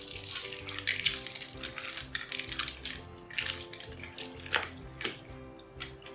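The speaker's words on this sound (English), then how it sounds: "I'm going to add some water." Water is poured into a pan of macaroni and ground chicken keema, giving a steady splashing and gurgling with occasional sizzling crackles, close and moderately quiet.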